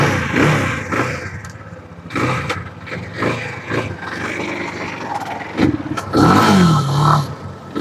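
A 250cc B250-X3 motorcycle, an enduro-classic hybrid, has its engine revved repeatedly in uneven bursts, rising and falling up close. Some scraping noises are mixed in and no one speaks.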